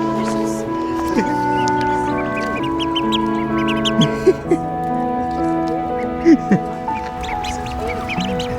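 Ducks quacking and clucking fowl in a barnyard, a steady chorus of calls close by with several sharper quacks standing out, while people talk throughout.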